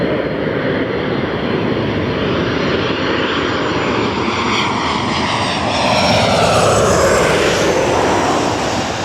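An American Airlines heavy jet comes in to land on runway 24 left at Los Angeles International Airport, its loud sustained engine roar swelling and shifting in pitch as it passes close by.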